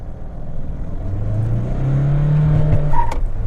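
Mahindra Scorpio Classic SUV engine revving hard in first gear, with the wheels spinning and tyres squealing. The low rising engine roar and tyre whine come from close by and grow louder toward the end.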